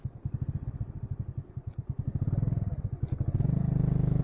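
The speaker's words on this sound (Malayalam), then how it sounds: "ഒരു പൊളിഞ്ഞ കെട്ടിടത്തിന്റെ തറയ്ക്കരികിൽ ബൈക്ക് നിർത്തി." A motorcycle idles with a rapid, rhythmic chug, close by, then revs a little and settles into a steadier, denser rumble as it comes to a stop beside a ruined building on a mountain route.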